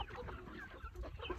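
French hybrid chickens cluck softly as a flock in a farm shed, giving a faint continuous chatter of overlapping calls with no voices.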